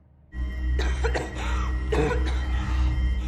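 A man coughs several times in a row in a bar scene, harsh bursts sounding close over a low, constant background hum.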